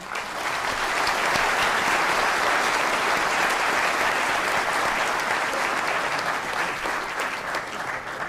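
A morning Q&A panel audience applauds continuously, steady and dense clapping that fills a large hall for the whole stretch without fading.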